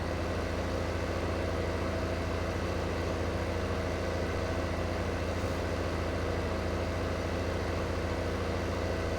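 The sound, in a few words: tractor engine idling in video game Farm Simulator 15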